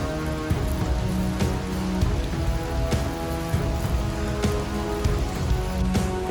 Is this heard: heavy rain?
yes